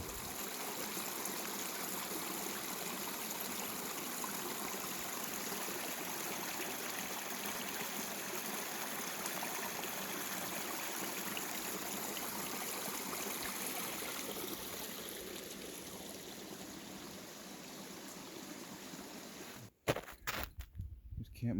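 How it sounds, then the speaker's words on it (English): A creek along the Appalachian Trail near the Delaware River, in the woods, rushes in a steady, close wash of water that thins slightly before brief rustling handling noises at the end. "there was a creek and it was unavoidable"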